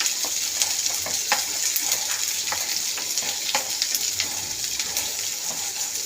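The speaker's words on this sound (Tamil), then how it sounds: "அதில் கொஞ்சம் நல்லெண்ணெய் வச்சுக்கிடும். நல்லா சிம்மில் வச்சு வதக்கணும்" Garlic sautés in sesame oil on low heat for a garlic pickle, with a steady, close sizzle and occasional scrapes of stirring throughout, and no voices.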